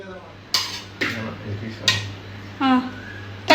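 A metal cooking vessel struck repeatedly with a utensil while mutton biryani is made in a home kitchen, four or five sharp clanging hits spaced unevenly, close and loud, with a voice talking around them.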